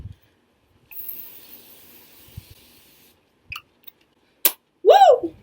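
Makeup setting spray releases a soft misting hiss lasting about two seconds, followed by a few short clicks and puffs, then a brief vocal exclamation near the end.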